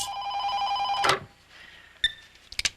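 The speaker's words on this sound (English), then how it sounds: "Every 10 minutes. It's like ringing off the hook." An old-style telephone bell rings loudly for about a second in a drama scene, then stops abruptly, followed by brief softer rattles and taps.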